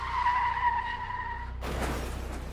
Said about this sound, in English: felt the car lurch as we went off the road